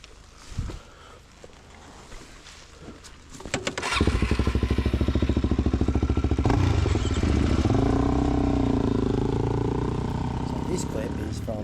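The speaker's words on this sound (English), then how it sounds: "This clip is from my last ride on the DRZ with Crofty on the 500 chasing me down through the trees here." A DRZ dirt bike rides through trees with a 500 dirt bike chasing. Quiet clatter comes first, then from about four seconds a loud engine revs and roars continuously, shifting pitch as the bikes accelerate, with talk over it.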